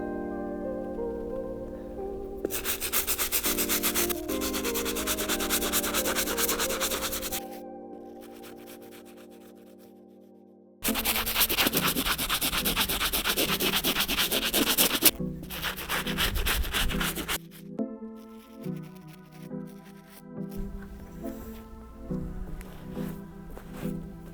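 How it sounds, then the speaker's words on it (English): A stiff bristle brush scrubs the soles of Nike Dunk High sneakers, loud close scratchy strokes in long bursts, broken by a pause and quieter intermittent scrubbing, with steady music playing underneath. "move on to the soles, and we'll be using the stiff bristle brush"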